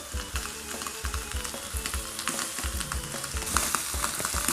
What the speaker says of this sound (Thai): กระทะร้อนมากตอนนี้ขอลดไฟลงก่อนนะ ก็จะเอาปลาลงไปในหม้อนี้ เอาปลาลงไป แล้วก็ปลาหมึกด้วยนะคะ